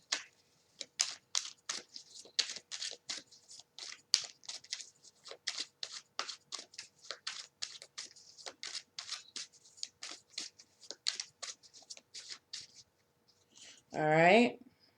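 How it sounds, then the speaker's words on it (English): A tarot deck is shuffled by hand close up: quick, crisp riffling and flicking bursts repeat for about thirteen seconds, then a short voiced sound closes the sequence. "Shuffle this up for Sagittarius."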